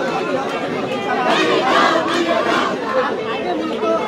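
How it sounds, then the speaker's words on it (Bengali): A crowd of private university students chants slogans at a protest, many voices shouting together loudly and fairly close, with rhythmic surges over constant crowd chatter. "প্রাইভেট বিশ্ববিদ্যালয়ের শিক্ষার্থীরা তারা এসে স্লোগান তুলছেন"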